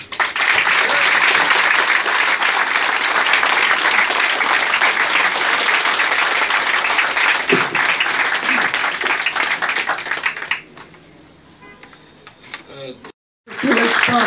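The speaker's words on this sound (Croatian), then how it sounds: "pa bi molio da svi skupa jednim žestokim i iskrenim pljeskom im zahvalimo" Sustained audience applause at a book presentation in a hall, loud and dense for about ten seconds, then fading to scattered claps and near silence.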